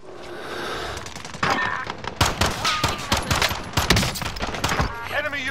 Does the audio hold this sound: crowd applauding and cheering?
no